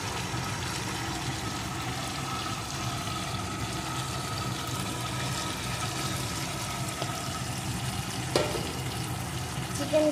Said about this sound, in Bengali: এখন আমি ভেজে রাখা চিকেনগুলোকে এর ভিতরে দিয়ে দেবো।